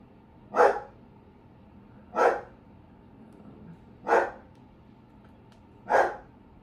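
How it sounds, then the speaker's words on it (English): A dog barks four times at a steady pace, each bark sharp and separated by a couple of seconds of quiet room tone. "the dog is barking"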